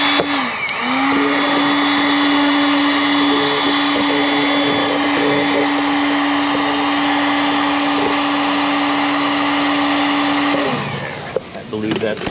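A heat gun blows a steady, whirring hum while shrinking heat-shrink tubing over repaired, rodent-damaged wiring on a Ford Fusion 1.6, running for about ten seconds before cutting off.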